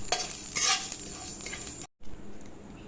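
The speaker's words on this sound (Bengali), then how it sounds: "সব আস্তে আস্তে একটুখানি হালকা ভেজে নেব।" Coriander, cumin and radhuni seeds dry-roast in a pan, giving a light rustling sizzle with stirring scrapes that swell and fade, close by, with a brief gap of silence and no speech.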